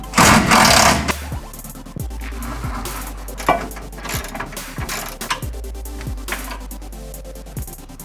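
A ratchet wrench works 13mm sway bar bolts loose on a Ford Focus Mk1. It gives repeated clicking ratchet strokes with short pauses between them, close and clear, after a louder burst of handling noise at the start.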